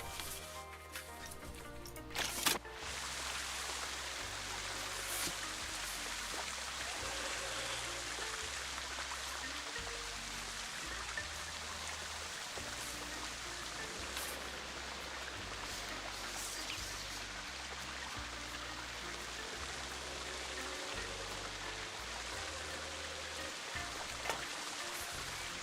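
In the theme park game Planet Coaster 2, a waterfall effect gives a faint, steady rushing hiss of falling water that runs unbroken, with a few small clicks near the start.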